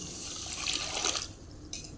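Water poured into sugar for lemon nannari sharbat, a close, splashing liquid rush that runs for about a second and a quarter, stops, then briefly resumes.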